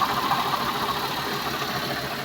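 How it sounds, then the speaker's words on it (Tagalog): A Suzuki DA64 van's engine idles steadily with an even, smooth mechanical hum, recorded close up without any talking. "So tahimik na yung makina."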